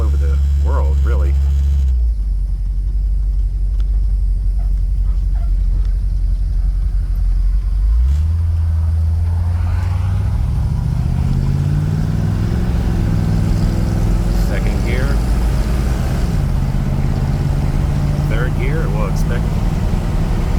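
A restored 1963 Ford Thunderbird engine rumbles loudly from inside the car, then climbs steadily in pitch as the car accelerates, with a voice intermittently over the drone.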